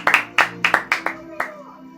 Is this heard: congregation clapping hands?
yes